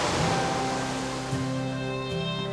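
Sea waves wash steadily as a broad, even surf wash with sustained music tones layered over it; no one speaks.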